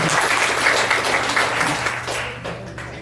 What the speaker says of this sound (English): One more clap for the